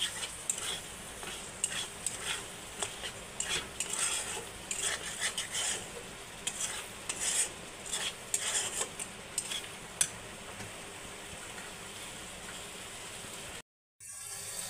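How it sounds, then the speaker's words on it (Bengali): Rita dried fish (shutki) being stir-fried in spice paste, with steady sizzling and repeated scraping, clinking stirs of a utensil against the pan, close and continuous until a brief dropout near the end. "শুটকিটি দিয়ে আর একটু কষানি পরে আলু দিয়া পরে ঝুল দিয়ে দিই"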